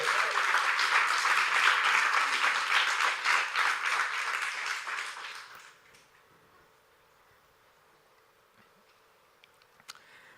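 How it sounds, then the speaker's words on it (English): Audience applause for a speaker at a Bitcoin and Nostr conference, a dense burst of clapping that fades out over several seconds into near silence, with a faint knock at the end. "Round of applause for Napoleon."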